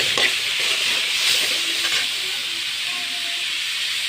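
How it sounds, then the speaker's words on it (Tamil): Tomatoes sautéing in oil with salt and turmeric give off a steady, loud hiss of sizzling and steam that holds evenly throughout, with faint stirring underneath. "தக்காளி போட்டு நல்லா வதங்கிக்கணும் நல்லா எண்ணெயில் நல்லா வதங்கணும்"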